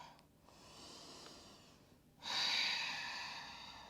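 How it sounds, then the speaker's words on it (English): Ujjayi breathing in and out through the nose during a yoga flow, heard as soft, close breath sounds with a quieter first phase and a louder, rushing breath later, with no talking. "Ujjayi pranayam, so breathing in and out through the nose."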